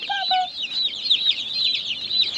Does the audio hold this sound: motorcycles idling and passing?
no